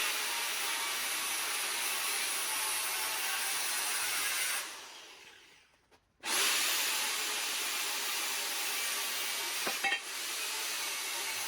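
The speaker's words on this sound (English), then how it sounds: "I'm also cutting my notch 6 inches higher in place with the grinder" An angle grinder cutting a notch into steel for a homemade log arch trailer runs with a loud continuous whine, winds down and stops briefly, then starts up again and keeps grinding, with a short clank near the end.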